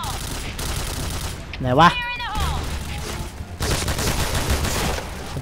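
Rapid L86 LSW gunfire in the shooter game Point Blank crackles as dense bursts throughout, with a voice speaking briefly over the shooting midway.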